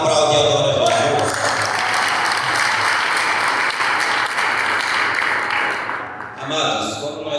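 A church congregation applauds during an evening service, a loud, steady wash of clapping that swells across the room for several seconds, with a voice and music briefly surfacing at the start and end.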